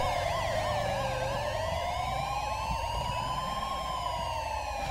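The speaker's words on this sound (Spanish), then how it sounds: "Por Dios, ¿se podrían ir sin sirena?" Police car sirens in the video game GTA V with the LSPDFR mod, loud and continuous, with overlapping wailing and yelping tones sweeping up and down for the whole stretch and no talk.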